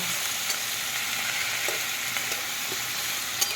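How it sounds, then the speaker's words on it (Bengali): A vegetable chorchori of cauliflower stems, radish, potato, tomato, green chili and black cumin fries in a pan with a steady close sizzle and occasional soft stirring clicks. "চচ্চড়ি বসিয়েছি একটা কপির ডাটা দিয়েছি মূলো দিয়েছি আলু দিয়েছি"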